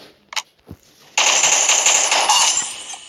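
Sustained machine-gun fire in the mobile shooter Pixel Gun 3D bursts in after a couple of faint clicks and rattles on loudly and continuously to the end.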